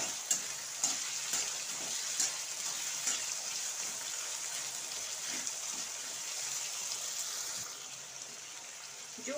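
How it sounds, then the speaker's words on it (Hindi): Potatoes fry in a pan over a high gas flame, giving a steady, close sizzle with a few scattered clicks and scrapes throughout. No one speaks. "जो कि ये आलू फ्राई हो रहे हैं, मैं हाई फ्लेम पे गैस को कर दी हूँ"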